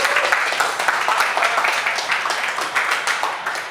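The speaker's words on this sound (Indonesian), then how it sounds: "Boleh tepuk tangan?" A talk-show audience breaks into lively applause, with dense crowd clapping that stays loud and even throughout, with no one speaking over it.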